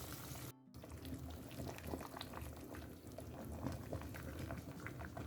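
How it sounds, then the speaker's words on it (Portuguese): Water at a rolling boil bubbles steadily in a pot, heated for cooking lasagna pasta, a constant close fizzing and gurgling that runs throughout with no talk. "A água já está fervendo e só agora eu posso colocar a massa da nossa"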